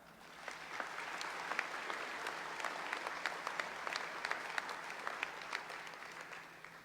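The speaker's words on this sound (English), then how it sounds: "Students, let's give them a round of applause at this time." Applause from a graduation audience honoring scholarship sponsors, a dense, even patter of many hands clapping at a moderate distance, holding steady for several seconds without voices.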